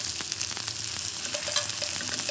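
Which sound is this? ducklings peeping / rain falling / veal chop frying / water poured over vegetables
veal chop frying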